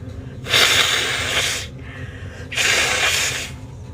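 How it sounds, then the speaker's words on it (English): Two loud, close nose blows, each a long honking rush of air about a second long, with a brief pause between them. "I'm gonna blow my nose."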